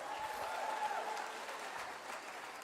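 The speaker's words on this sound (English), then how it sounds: "Give him a round of applause again." Audience applause after a speaker asks the crowd to clap again for a young man at a live talk event, a steady dense clatter of many hands held at an even level for a few seconds.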